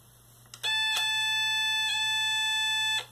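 A Snap Circuits U23 strobe IC wired with a 3 snap wire gives a steady, bright electronic tone that sounds for about two and a half seconds after a few faint clicks, then stops abruptly.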